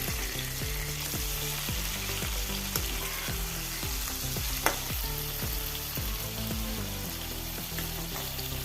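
Mackerel frying in a pan with masala, a steady close sizzle with a regular rhythmic beat running under it and one brief sharp pop partway through.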